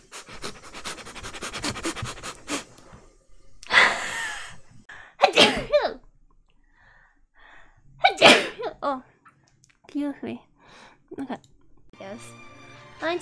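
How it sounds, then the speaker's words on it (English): Several sneezes burst out between stretches of sniffling and heavy breathing, loud and close, with a few quieter vocal sounds in the pauses. "Time to blow my nose and sneeze."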